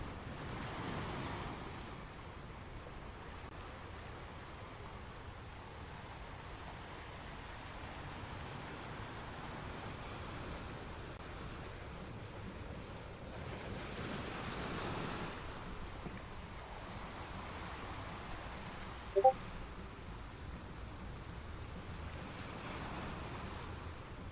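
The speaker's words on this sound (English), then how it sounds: "that should have gotten the water sound going" Ambient water and waves in the video game Pokemon Scarlet: a soft, continuous wash of surf with gentle swells and a single small click near the end, heard alone without voices.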